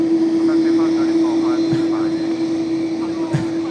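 A China Airlines jet airliner at Tokyo Haneda, a very loud piercing engine roar with a strong steady tonal whine, close and overwhelming throughout, with faint voices underneath.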